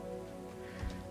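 Steady rain falls in the medieval colony-building game Going Medieval, a constant soft hiss with a brief low rumble near the end, like distant thunder.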